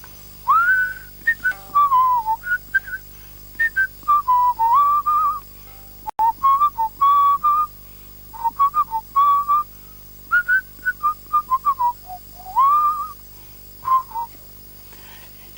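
Someone whistles a melody alone, a steady stream of clear, sliding notes in short phrases with brief breaths between them.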